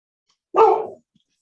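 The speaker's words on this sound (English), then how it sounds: "sorry, it's my dog wanting out" A single loud, close bark from a dog wanting to be let outside, sharp and brief against otherwise silent surroundings.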